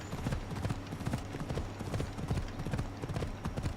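A horse gallops in Assassin's Creed Odyssey, with rhythmic clip-clop hoofbeats that stay steady, close and loud throughout. A faint neigh may come through, and no one speaks.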